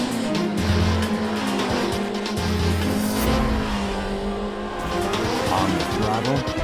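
A race car tears around a dry track, its engine roaring and shifting up and down with tire squeal and skidding through the turns, loud and close throughout.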